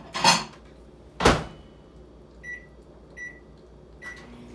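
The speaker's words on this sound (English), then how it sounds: "So I'm going to put this in the microwave for 40 seconds on high." A home microwave oven is set for 40 seconds on high to cook eggs. Two loud door or button clunks come first, then a quiet hum with three short, evenly spaced beeps, all close by.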